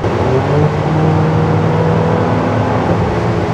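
A Jeep Renegade AWD small SUV's 2.4-litre engine hums and whirs loudly and continuously, with a steady revving drone throughout and no voices.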